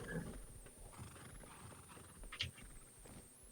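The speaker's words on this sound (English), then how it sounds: "These are our horses. They're very, very nice horses." Horses in the video game Rust stand at a base. Faint snorts and soft hoof sounds come through a steady low ambient hum, with no talking.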